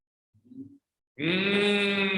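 A person imitates a cow, giving a brief low grunt and then a loud, long, nasal bleating moo that sounds more like a sheep or goat.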